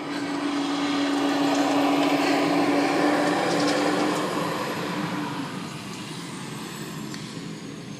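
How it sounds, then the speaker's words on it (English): A truck rolling past outdoors, a broad engine and road rumble that swells loud early on and then slowly fades as it moves away, with no voices over it. "Here's that truck again."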